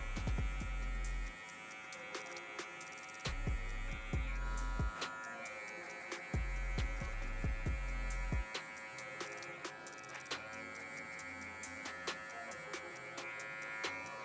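Electric hair clippers fitted with a number 2 guard, cutting hair for a mid drop fade: a steady close buzz switched on and off, with brief handling clicks and pauses between passes.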